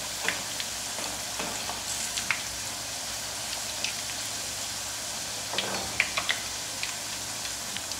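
Thin potato wafers fry in hot oil in a pan and get turned over, a soft continuous sizzle with scattered light crackles and occasional clinks and scrapes of a utensil, fairly quiet and with no voices.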